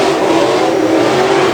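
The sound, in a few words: Pro Modified race cars racing into turn 1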